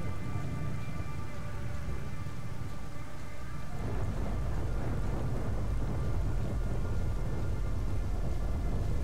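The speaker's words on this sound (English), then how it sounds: "Thunder" A night thunderstorm at the Darkscape rail bridge in Call of the Zone: heavy rain hisses steadily throughout while a deep, rumbling roll of thunder swells midway, loud and enveloping, with no voices.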